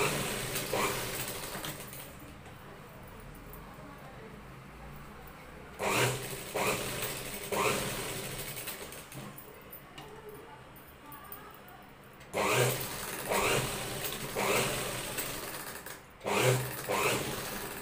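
A sewing machine stitches saree pieces together in several short, rapid bursts separated by pauses, loud and close, with a person speaking between the runs.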